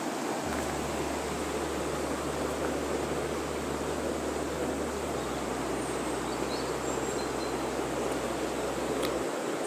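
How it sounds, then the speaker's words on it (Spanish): A river rushes through the Garganta de Cuartos gorge near Losar de la Vera in Cáceres, Spain, a steady, even wash of flowing water with a faint low hum beneath it and no voices. "El río lo llevamos aquí a la izquierda."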